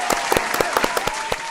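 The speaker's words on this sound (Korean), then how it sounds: "여러분 박수 한번 주십시오." A studio audience applauds during a Korean broadcast, a brisk patter of many hands clapping, close and fairly loud, with no one speaking over it.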